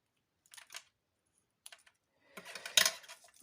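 Paper being cut for a small gold-accented pouch craft: a few short crisp snips, then a denser stretch of cutting and rustling, close and quiet with no talk.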